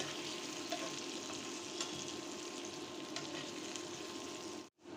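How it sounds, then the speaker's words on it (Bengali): Pointed gourd, onion and green chilies frying together in a pan, a soft, even hiss of oil with a few faint stirring clicks, close but quiet, no talking, briefly dropping out at the end. "একটু ভেজে নিব।"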